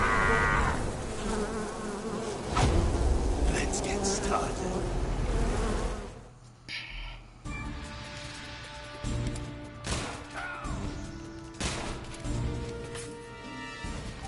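Buzzing bee swarms from The Pain boss fight in the Metal Gear Solid Delta: Snake Eater video game hum and drone around game effects, with a brief spoken line early on.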